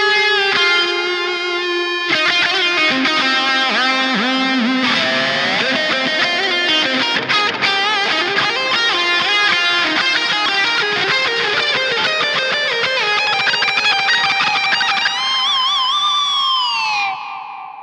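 A distorted electric guitar lead tone from the JST Toneforge Menace plays a lead line with bends and sustained notes, drenched in delay, loud and continuous before fading at the end.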